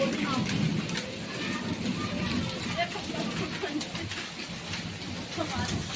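Steady rain patters throughout, with people talking nearby over the wash of falling water.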